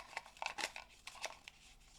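Papers being shuffled by hand at a tournament draw, a faint series of soft rustling and crinkling bursts that come in irregular handfuls, close to the ear with no talk.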